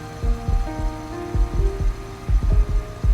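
A heartbeat sound effect from the Love and Deepspace game, with repeated low thumping beats under a soft, sustained musical hum and tones.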